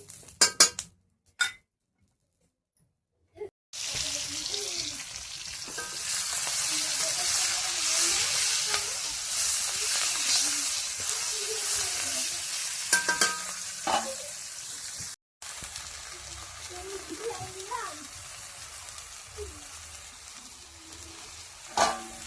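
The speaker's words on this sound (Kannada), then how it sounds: "ಒಂದು ಸ್ವಲ್ಪ ಎಣ್ಣೆ ಹಾಕಿ ಹುರಿದ್ಬಿಟ್ಟು" Green chillies fry in a little oil in a pan, a loud continuous sizzle and hiss with occasional clinks from stirring, broken by brief silent gaps.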